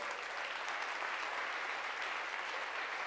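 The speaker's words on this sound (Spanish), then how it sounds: "Por favor, dale un aplauso a Él." A church congregation breaks into sustained applause, a thick even wash of many hands clapping together, steady and somewhat distant.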